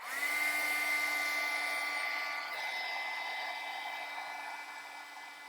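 A hair dryer runs continuously on a handmade Christmas card, a steady close whir with a high tonal whine that holds level and eases slightly toward the end.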